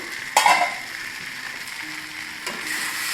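Ivy gourd (kundri) fries in a covered pan, giving a steady soft sizzle throughout, with a brief louder clatter near the start and another faint knock toward the end.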